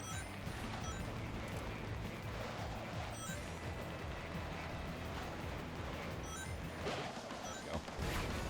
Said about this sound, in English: Got some invincibility now, so I can run through all the explosions.